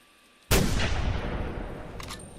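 Rifle gunshot at a deer in the hunting video game The Hunter, a single loud, sudden blast with a long rolling echo that fades over about two seconds.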